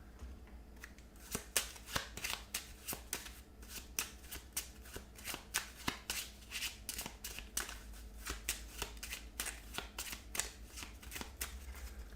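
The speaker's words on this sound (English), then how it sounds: "we have to shuffle." Deck of cards being shuffled for a solo board game, a close, steady run of crisp riffling flutters and snaps repeating rapidly throughout with no talk.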